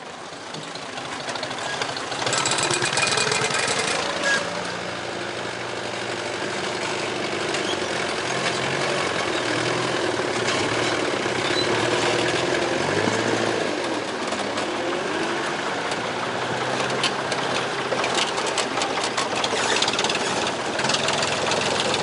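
Vintage Dexter and Ferguson tractors running together on a South Lakes tractor run, a steady close engine drone with low knocking throb that holds loud and even throughout, with no talk.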